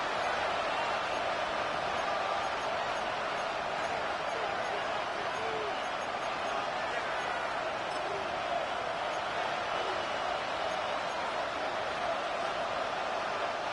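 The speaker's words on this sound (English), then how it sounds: "This crowd turning up the decibel level." Stadium crowd noise from the football video game Madden 26, with the 49ers playing the Seahawks, as a dense, steady roar holding at a constant loud level throughout.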